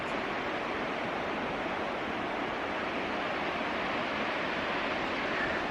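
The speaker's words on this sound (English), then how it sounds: "here's the river" River water flows in a continuous broadband rush, steady and fairly faint, heard from nearby in the outdoors with no voices.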